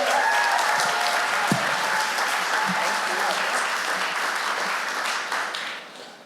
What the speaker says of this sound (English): I need y'all to put your hands together, make some noise for Miss Kim Bostic.